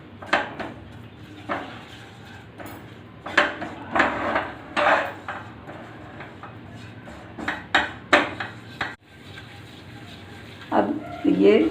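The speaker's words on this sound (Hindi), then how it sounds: "इसमें हम जैसे हम हलवा भूनते हैं उसी तरह से हम इस आटे को भून लेंगे" Flour roasting in ghee over a slow flame gives way mostly to repeated spoon scrapes and clinks against the pan, irregular and close, with a person talking over parts of it.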